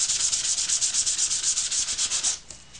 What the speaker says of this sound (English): Next thing I'm going to do is I am going to go ahead and sand these.